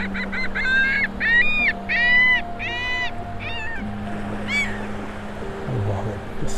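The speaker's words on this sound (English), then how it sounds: "I love it, the sound of the laughing gulls." A series of nasal, laughing calls from laughing gulls repeats in quick bursts, fairly close, over a low steady hum of breeze and water on an early-morning beach in North Naples, Florida.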